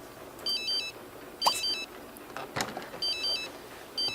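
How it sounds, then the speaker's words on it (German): Electronic telephone ringtone from The Sims 3, playing in repeated bursts of short trilling beeps, four rings spaced about a second apart, clear and fairly close over a faint background. "Oh Gott, dieses scheiß Telefon."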